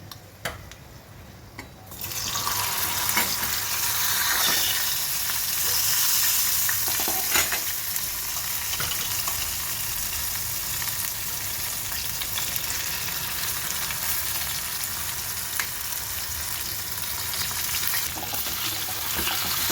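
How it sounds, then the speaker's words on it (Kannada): Okra fries in oil over a low flame after a tempering of dried red chillies. A dense, even sizzle starts after a brief quieter moment and carries on steadily throughout, close and without voices. "ಫ್ಲೇಮ್ ಸಣ್ಣಕ್ಕೆ ಇಟ್ಕೊಂಡೆ ಫ್ರೈ ಮಾಡಬೇಕು ಬೆಂಡೆಕಾಯಿನ"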